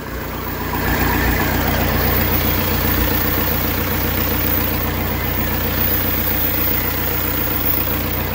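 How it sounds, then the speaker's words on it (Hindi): A Toyota Innova diesel engine, freshly overhauled after a seized piston, idles steadily with a loud, even low rumble that carries unchanged from start to finish. "ठीक है फ्रेंड, एक झटके में स्टार्ट हो रही है ये गाड़ी।"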